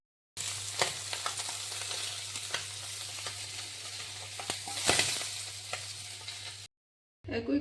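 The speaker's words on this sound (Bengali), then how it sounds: "তেল গরম হয়ে গেল, এবার মাছগুলি আমি লাল লাল করে ভেজে নিয়েছি" Tangra fish fry in hot oil with a steady close sizzle and intermittent pops and spatters, occasional stirring scrapes over a low hum, then a brief silence before the frying resumes.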